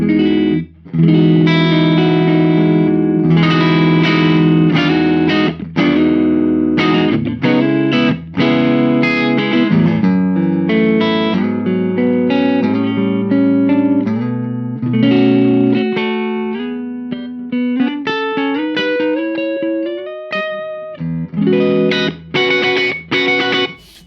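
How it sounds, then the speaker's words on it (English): An electric guitar played on its neck pickup runs through an Engl Retro Tube 100 tube amp. Loud, lightly driven chords and single-note runs play over about twenty seconds, with short pauses between phrases and no voices. "And the neck sounds cool."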